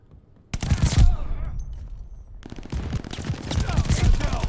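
Rapid pistol fire in Call of Duty: Vanguard, a fast loud burst of shots, a short lull, then another sustained string of close shots with no talking over it.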